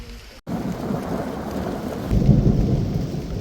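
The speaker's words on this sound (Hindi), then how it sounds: "और बारिश अभी तेज़ हो गई है।" Heavy rain pours down steadily during a tiger safari, a dense broadband roar that briefly drops out, then returns and grows even louder toward the end.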